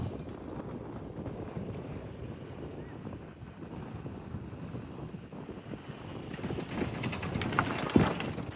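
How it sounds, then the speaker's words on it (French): Steady wind buffets and rumbles across the microphone on a ski slope, a continuous low roar that swells slightly toward the end. "puis il y a un peu de vent"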